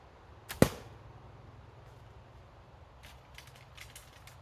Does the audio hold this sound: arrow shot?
yes